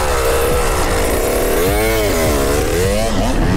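A KTM 85 SX dirt bike lapping a motocross track with jumps and whoops, its small engine loud and close, revving up and down continuously as the rider works the throttle.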